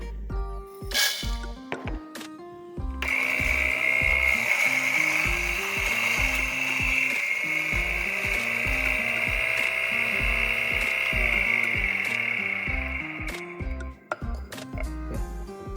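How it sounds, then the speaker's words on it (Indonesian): A coffee grinder grinds beans for brewing at a barista training session, a loud continuous whirring burr grind lasting about ten seconds, preceded and followed by rhythmic clicking and tapping. "pertama kita giling kopinya"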